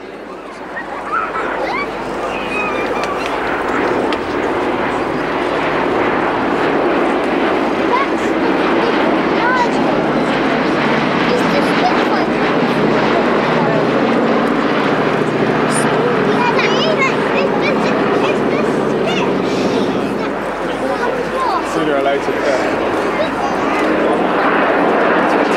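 A B-17 bomber flies over Shoreham Airshow, its broad piston-engine drone holding steady and loud for the whole stretch with a slight dip near the end.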